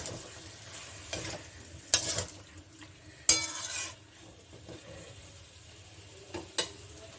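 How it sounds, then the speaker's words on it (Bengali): Jackfruit curry masala sautés in a pan with a low, steady sizzle as a spoon stirs. It scrapes and clinks against the metal in several distinct bursts, and no voices are heard. "এই সময়তে একটু কষিয়ে নেব।"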